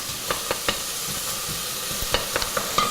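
Beef short ribs frying in a low pan, a constant close sizzle broken by irregular clicks and scrapes of stirring, with no voices.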